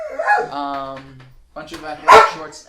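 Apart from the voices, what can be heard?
dog barking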